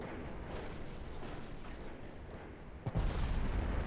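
Battleship main guns firing during gunnery in a naval warfare game, with a sustained rumbling barrage and a heavier low boom landing near the end.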